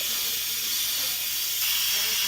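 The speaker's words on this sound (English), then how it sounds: "I don't know if you can see the steam coming out." Pressurized steam vents from an Instant Pot's release valve in a loud, unbroken hiss, heard up close and rising a little toward the end.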